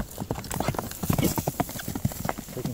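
Horse hooves clip-clopping in a quick, uneven rhythm of close, distinct knocks on hard ground, continuous through the moment.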